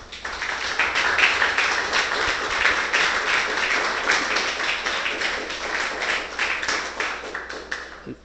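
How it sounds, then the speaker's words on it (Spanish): A church congregation claps and applauds in a dense, steady patter of many hands. It is fairly loud and sustained for several seconds, then fades at the end. "Denle un fuerte aplauso al Señor, hermano."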